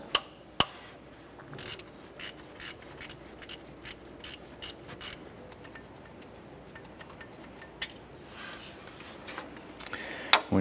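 Ratchet wrench loosening two 8 mm bolts on a 1993-1997 Ford Ranger engine, clicking in a steady series of close, sharp ticks with a few louder knocks.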